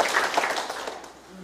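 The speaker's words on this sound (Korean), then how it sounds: "여러분들께서도 이러한 부분에 동의해 주시면 박수 한번 보내주십시오" Short burst of audience clapping at a town meeting held by a city mayor, brisk and fairly close, tapering off within about a second.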